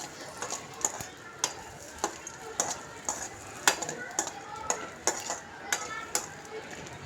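Tomato chutney with coconut pieces and a little oil is stirred in a frying pan, a spoon clinking and scraping against the metal in a regular rhythm about twice a second under a faint background sizzle.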